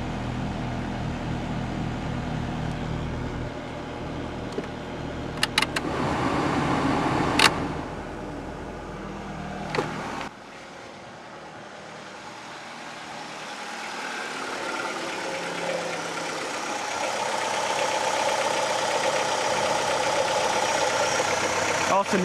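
A car engine idles with a rough, diesel-like clatter; the car also has a PCV hose missing its clamp. The low steady rumble holds close for about ten seconds, then drops away to a quieter, hissy background.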